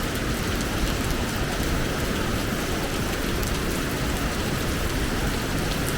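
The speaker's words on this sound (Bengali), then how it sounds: "এত বৃষ্টি হচ্ছে, কি পরিমাণে বৃষ্টি হচ্ছে দেখুন।" Heavy monsoon rain pours down in Keonjhar, Odisha, a dense, steady, loud hiss of falling water that never lets up.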